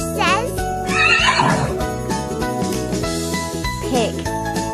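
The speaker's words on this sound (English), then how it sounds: "Horse. Horse says." A horse whinnies in a loud, quavering neigh over a cheerful jingling children's music track, with a second shorter whinny near the end.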